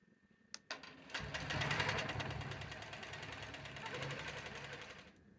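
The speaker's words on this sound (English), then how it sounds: "And then when I get to that cutout, stop the machine, move the ruler, and go again." A longarm quilting machine sewing binding onto a quilt, with a steady rapid close-up stitching hum that runs for several seconds after a couple of clicks and then stops.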